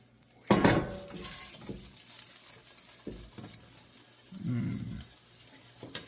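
Halibut cooks in butter in a pan, a soft sizzle underlying a few clinks and scrapes of utensil against pan, quiet and close with brief louder stirring bursts.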